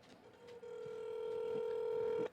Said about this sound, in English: I am calling him on my cell phone right now.